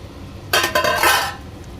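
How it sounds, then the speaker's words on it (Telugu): Chicken pieces dropped into hot oil with cooked-down masala in a pan: a sudden close burst of hissing and clatter, lasting under a second, that fades back to a quiet room. "ఇప్పుడు మనం చికెన్ పీసెస్ని దీంట్లో వేసుకుందాం."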